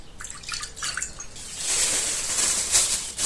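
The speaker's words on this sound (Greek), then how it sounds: "Σε ένα καθαρό σκεύος θα βάλουμε 150 γραμμάρια χλιαρό νερό." Lukewarm water is poured into a clean bowl while preparing sourdough for khachapuri, first as a few drips and splashes, then as a steady, close pouring stream.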